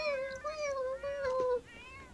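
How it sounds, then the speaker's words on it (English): A house cat meows several times in quick succession, drawn-out rising and falling calls close to the listener, with a quiet room behind. "there's our cat."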